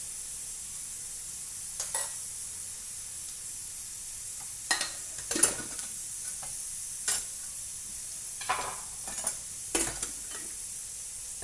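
Onion browning in a pan at home for a bitter gourd dish, a soft continuous sizzle broken by several sharp scraping stirs of a spoon at irregular intervals, close by with no talk.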